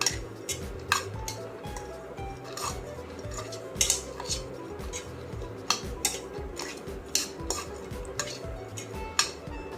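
A spoon scraping and clinking around a metal bowl while crushed peanuts are mixed with red chili powder for chutney, giving a steady rhythmic stirring clatter with sharp clinks throughout.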